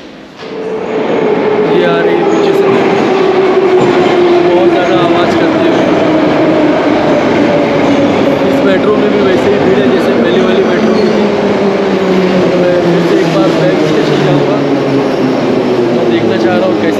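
A metro train in Uzbekistan running through the underground, giving a loud, steady roar with a slowly falling whine that holds evenly for the whole stretch.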